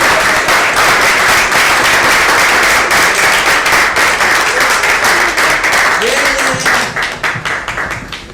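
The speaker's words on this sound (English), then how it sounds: "let's all give a standing ovation for Jenny Stefanotti" Conference audience at Solarpunkification 2025 gives a standing ovation for Jenny Stefanotti, loud continuous clapping that fills the whole stretch and thins slightly toward the end.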